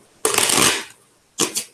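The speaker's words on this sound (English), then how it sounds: "shuffle these cards up so we can increase our randomness, because we're going to pick a card" A deck of playing cards being shuffled at close range, two quick riffling bursts, the first longer and fuller, then a short second riffle after a brief pause.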